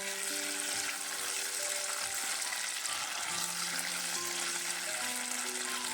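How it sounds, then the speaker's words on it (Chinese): Marinated tofu frying in a wok of hot cooking oil, a steady soft sizzle and crackle held low and even, with faint scraping from a spatula spreading the pieces. "放入1勺食用油，油热以后倒入腌好的豆腐，先用铲子摊平整一些"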